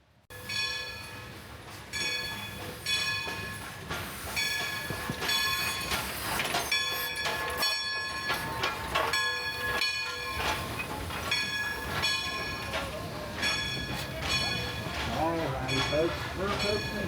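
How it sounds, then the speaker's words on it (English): A Dollywood theme park train rolls past nearby with rhythmic clickety-clack of wheels, a clanging bell and steady rumble throughout, with voices of people talking in the background. "I hear the train coming"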